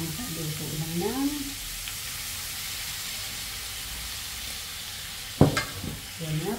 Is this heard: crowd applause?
no